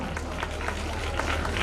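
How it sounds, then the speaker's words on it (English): An audience at a school annual function applauds, with dense, continuous clapping from a crowd filling the whole brief moment. "Give a big applause for Marzia Fatma."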